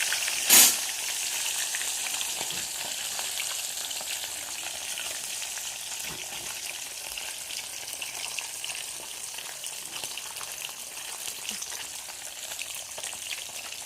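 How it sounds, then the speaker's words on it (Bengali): A single piece of fish fries in oil in a small pan, giving a steady crackling sizzle that runs throughout after one sharp clatter near the start, with no talking. "এক পিস করে মাছ ভাজলে মাছটা ভাজা খুব ভালো হয়।"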